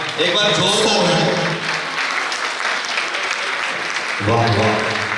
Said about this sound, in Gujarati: વાહ ભાઈ વાહ, એક વાર જોરદાર તાળી